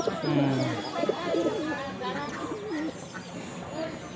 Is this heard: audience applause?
no